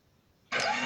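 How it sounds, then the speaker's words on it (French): A Gravastar G1 Bluetooth speaker powers on, and after half a second of near silence a sudden loud, full startup sound bursts out close by and holds steady to the end. "je vais l'allumer et vous allez voir qu'est-ce qu'il fait comme bruit quand il est allumé"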